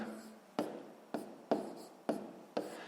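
Pen writing math on paper for a sixth-grade exercise: five close, distinct scratching strokes, each a sharp onset that trails off, in a rhythmic series with no voices.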